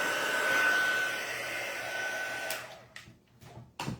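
A heat tool melting embossing powder on a card blows with a steady, hair-dryer-like whoosh for a few seconds, then cuts off, leaving a few faint handling noises.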